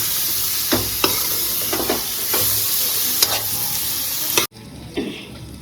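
Food frying in hot oil makes a loud, close, steady sizzle, with several utensil strokes scattered through it. The sizzle cuts off abruptly near the end, leaving a quieter hiss.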